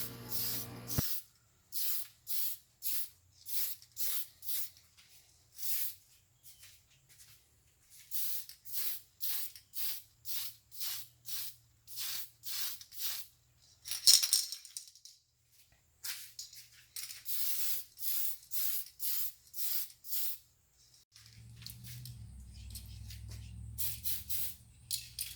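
A spray can lays a wet coat of paint on an RC hardbody Blitzer Beetle in repeated short bursts, each a sharp hiss with brief pauses between, followed by a low rumble near the end.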